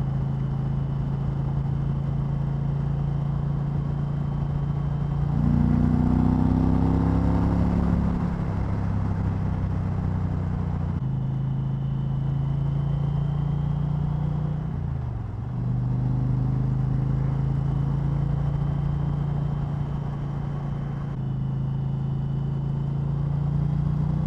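An Indian Challenger motorcycle engine drones steadily while riding on the road from Richmond to Williamsburg, Virginia, with a rising rev swell early on and a brief dip midway, under constant wind rush.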